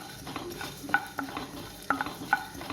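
Pepper, cumin and fennel dry roasting in a hot kadai over low flame, a soft crackle with intermittent scraping stirs and a few sharp clinks of the spoon against the pan.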